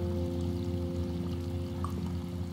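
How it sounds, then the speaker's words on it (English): Creek water pours steadily into a huge drain pipe tunnel at the edge of the woods in the Goosebumps video game, a continuous flow layered with a sustained tonal game drone and no talking. "The creek flows into a huge drain pipe tunnel."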